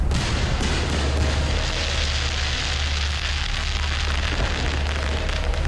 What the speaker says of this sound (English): And I put some fireworks into the game.